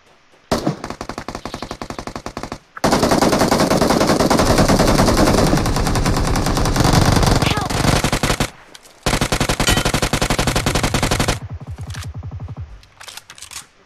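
Rapid automatic gunfire in PUBG comes in long, loud sustained bursts separated by brief silent gaps, close and dominating the sound.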